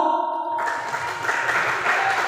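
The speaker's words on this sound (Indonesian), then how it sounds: "ya beri tepuk tangan untuk Regu C" Audience applause for a competing team at a quiz contest, starting just after a tone cuts off and continuing as an even wash of clapping.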